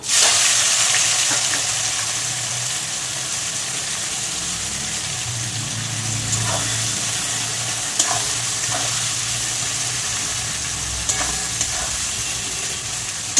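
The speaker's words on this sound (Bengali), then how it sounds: "পেঁয়াজটা একটু ভালো করে ভেজে নেবো" Over 500 grams of onions frying in a pot for chicken khichuri, a continuous loud sizzle with occasional stirring clinks and scrapes, no speech.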